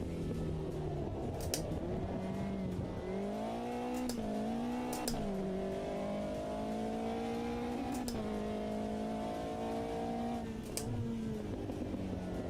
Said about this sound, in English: It's like a canned RPM wobble. It's not from bumps on the track.